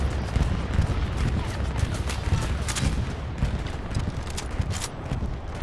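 Explosive bombing and gunfire in a World War II squad shooter game, a dense, continuous rumble of blasts and crackling shots at moderate level, with faint sharp cracks scattered throughout.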